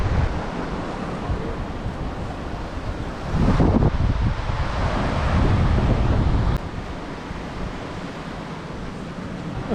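Strong wind gusting across a beach campsite in Far North Queensland, buffeting the microphone with a loud, continuous roar and surf rumbling underneath, swelling midway and easing slightly near the end.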